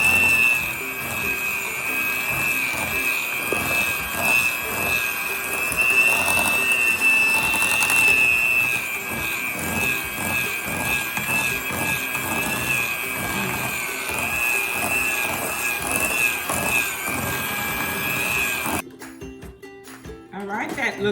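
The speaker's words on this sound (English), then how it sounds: "we're gonna mix it well together before we put the cheese in on low spin" An electric hand mixer whips potatoes on low speed, a steady, loud motor whine with rhythmic beater clatter running continuously, then cutting off near the end.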